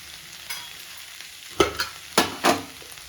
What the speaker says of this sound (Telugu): ఈ బీన్స్ బాగా వేగినాక మనం ఈ పొడి అందులో వేసేద్దాం. ఇది కొంచెం ఫ్రై అవ్వాలి.